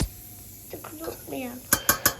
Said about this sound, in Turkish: şimdi ocağa almadan önce tenceremizi bir güzel karıştırıyorum